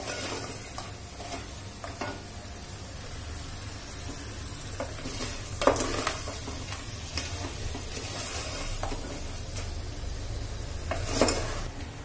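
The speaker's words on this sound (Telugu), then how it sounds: "ఇలా పీతల్ని వేసుకున్నాక ఇదంతా కూడా ఈ పీతలకు పట్టేటట్టుగా ఒక 2 నిమిషాల పాటు ఫ్రై చేసుకోవాలి" Crabs frying and being stirred in a pan for a crab curry, a steady soft sizzle with intermittent scraping and clinks of a utensil stirring, brief louder scrapes around the middle and near the end, no talking.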